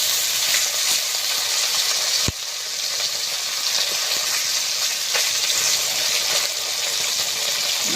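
Tilapia frying in hot oil in a pan, a steady loud sizzle that runs throughout with a single sharp knock partway through.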